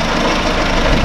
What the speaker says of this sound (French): Voilà, au quart de tour. Le moteur, il tourne.